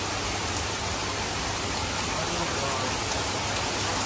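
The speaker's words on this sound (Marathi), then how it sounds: "तुफान पाऊस आलाय, तुफान." Heavy monsoon rain pours down steadily in a dense, unbroken roar, loud and close throughout with no pauses.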